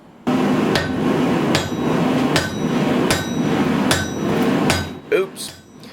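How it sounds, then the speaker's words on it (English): A hammer forges a piece of antique wrought iron anchor chain into a bar, striking about every 0.8 seconds in seven loud, ringing blows over a constant roar. "I'll take one of these pieces and I'll forge it into a bar"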